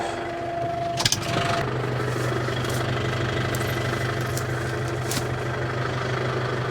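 A tractor engine idles nearby with a steady low rumble and faint mechanical knocking, a brief metallic clatter early on, while hitched to a roller; no talking.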